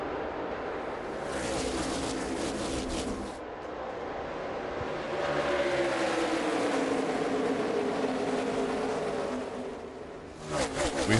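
NASCAR Xfinity Series race cars roar around Indianapolis Motor Speedway, a steady wash of engine noise with passing sweeps and rising whines, under continuous commentary.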